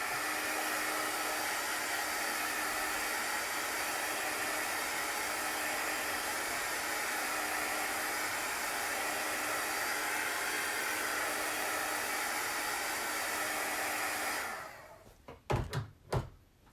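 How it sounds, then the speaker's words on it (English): Hair dryer blowing steadily and loudly at close range on chalk paste over a craft project for about fourteen seconds, then switching off, followed by a few soft knocks and handling thumps. "I'm going to dry this."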